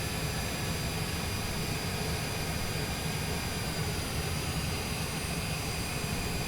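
Jet airliner taxiing to the gate at Burlington airport in Vermont, a steady loud engine whine and roar holding constant throughout, heard from close by with no talking.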